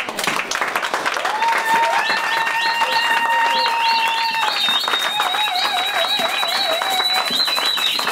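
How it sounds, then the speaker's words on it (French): A church congregation applauds loudly and continuously during a service, the clapping mixed with high, wavering cries and whistle-like shouts from the crowd. "On acclame encore très très fort"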